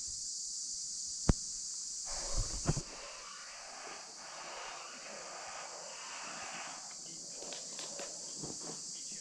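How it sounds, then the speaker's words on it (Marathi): Frogs in a water tank at Madhu Makarand fort in Maharashtra keep up a continuous high, shrill chorus that hangs steadily over the whole stretch, with a few thumps and handling knocks early on and no clear speech. "हे आवाज आहे इथल्या पाण्यामधल्या बेडकांचा, जे ओरडत असतात कंटिन्यू काही वेळेनंतर"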